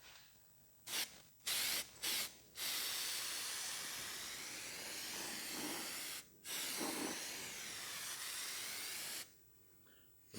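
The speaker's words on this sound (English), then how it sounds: "it's a spray contact adhesive" Sika spray contact adhesive hisses from an aerosol can in three short bursts, then one long steady spray with a brief break, applied while fitting a rocker gasket on a Massey Ferguson MF135 tractor. The spray sounds close and loud, with quiet pauses between bursts.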